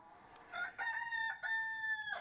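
A rooster crows on a farm, one drawn-out cock-a-doodle-doo in several rising and held segments, fairly near and clear against a quiet background, with no talking.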